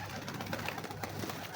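A pigeon coos faintly a few times against a quiet indoor background, soft low murmurs with no speech over them.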